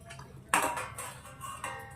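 A mixer jug is handled and apple pieces are dropped in, giving a few close clinks and knocks, one sharper clatter followed by lighter taps.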